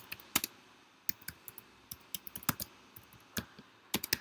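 Keys clatter on a computer keyboard in short irregular bursts of close, crisp clicks with brief pauses between them, typing a search into a browser.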